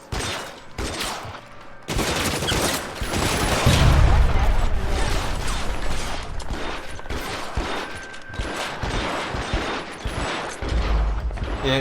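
Sustained, loud gunfire in L.A. Noire, with rapid shots and impacts layered over one another for several seconds while someone talks over the noise.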